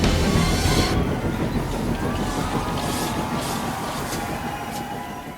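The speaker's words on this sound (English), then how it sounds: "he listened happily to Edward's steady beat as he forged slowly but surely up the hill" A steam engine with passenger coaches climbs a hill, heard as a loud, continuous rumbling roar with wind noise, fading slightly toward the end.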